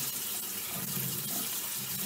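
Tap water runs over black beans being rinsed in a sink, a steady, close rushing splash at low volume with no voices.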